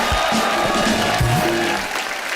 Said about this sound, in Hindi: तालियां जोरदार हो जाए एक बार।